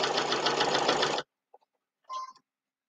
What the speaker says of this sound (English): The walking foot and the machine do the work.